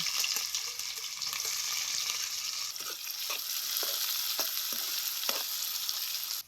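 Steady crackling sizzle of cumin and mustard seeds frying in hot oil, with a few soft clinks of a spoon stirring; no voices.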